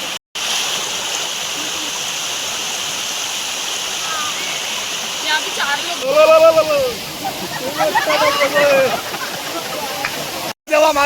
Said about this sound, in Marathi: मोठा मेन धबधबा वरती आहे, तर छोटं पाणी पडतं आहे